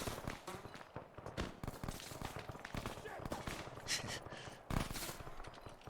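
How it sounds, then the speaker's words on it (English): Automatic gunfire pounding a building in the video game Arma 3, with dense rapid bursts and impacts, some sharp cracks standing out, continuous and loud throughout. "They're just pounding this building now. And the bullets are going through the windows, as you see, or through the walls."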